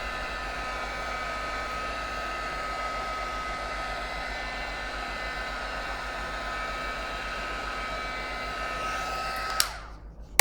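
A hair dryer blows steadily and loudly at close range, drying wet ink on a mixed media flower art journal page, a continuous whirring hiss with a faint tonal whine that cuts off abruptly near the end.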